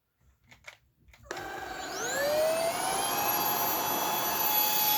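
A Puweike stick vacuum cleaner with a motorized beater head switches on after a few soft handling knocks, its motor whining up in pitch and then holding a steady, loud drone.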